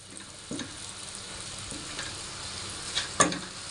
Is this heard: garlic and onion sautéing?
yes